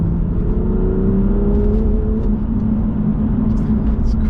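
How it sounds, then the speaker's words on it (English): A car accelerates on damp winter roads in the North York Moors, losing traction in third gear; a loud, steady engine drone and road rumble rises in pitch, heard from inside the cabin. "The car is still losing traction in the third gear, so obviously the dampness doesn't help"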